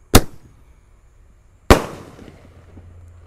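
Two loud sharp firework bangs go off outdoors on Eid eve, about one and a half seconds apart, the second trailing into a longer rumbling decay.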